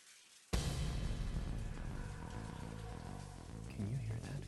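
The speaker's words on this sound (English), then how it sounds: "Is it rain? No, it's the shower." A shower switched on in a horror video game starts abruptly as a steady hiss of running water, with a low droning game ambience underneath.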